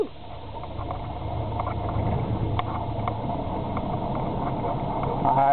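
A 1977 Chevy K10 with a 350 V8 rumbles steadily on a freezing 8-degree morning just after a cold start, a low continuous drone mixed with wind noise and swelling slightly toward the end.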